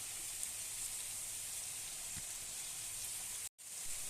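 Cumin seeds and a bay leaf frying in hot oil, a soft, steady sizzle and crackle, faint and continuous, with a brief dropout near the end.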